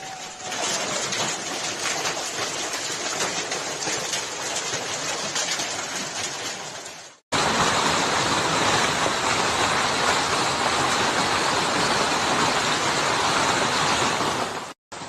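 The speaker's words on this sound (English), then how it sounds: "Heavy rain has caused flooding in the city." Floodwater after heavy rain rushes through city streets in a loud, steady roar, cutting out briefly midway and then resuming even stronger, with no voices.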